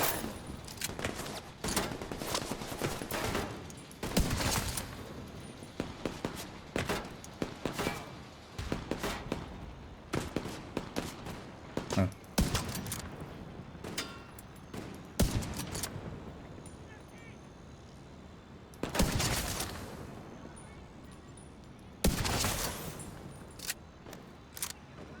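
Gunfire from a video game, with a dense run of sharp, loud shots and bursts that stop and start, plus several heavier blasts later on. Quieter game sounds and some talk sit between the shots.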